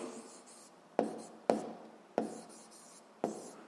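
Pen writing out a math solution on paper, a soft steady scratching that is interrupted by four sharp taps spaced about half a second to a second apart. It sounds close and quiet, and no one speaks.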